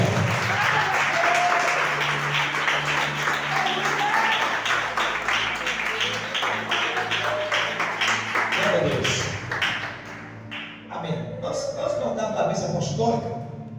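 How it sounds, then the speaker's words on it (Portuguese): A church congregation applauding at a Friday evening service, sustained clapping mixed with music and a voice over it, thinning out near the end. "Vamos aplaudir o Senhor Jesus."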